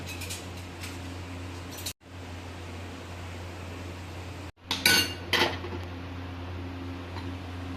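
Metal spoon clinking against dishes in a home kitchen where vermicelli kheer is served: a few brief, bright clinks near the middle over a steady background hum, with no talk.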